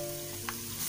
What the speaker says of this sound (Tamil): இந்த வெங்காயம் பாருங்கள் நல்லா ஃப்ரை ஆகிடுச்சு